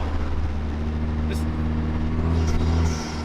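A Vanderhall turbo car drives at low speed, its engine a steady, close, droning hum with a faint whine above it. The sound holds an even level throughout, with a couple of brief higher hisses.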